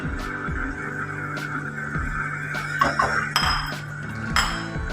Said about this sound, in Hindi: डालने के बाद अच्छी तरह चमचा हिला लें।